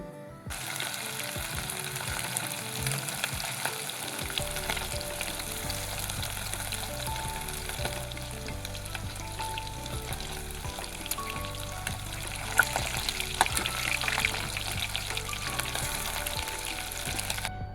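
Korean-style chicken deep-frying in very hot oil, a dense continuous crackling sizzle that stays loud and even throughout, with occasional pops rising above it.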